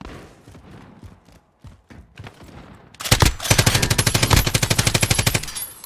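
Automatic gunfire in the video game Call of Duty Modern Warfare, a loud rapid burst of evenly spaced shots lasting about three seconds, preceded by quieter game noises and footsteps.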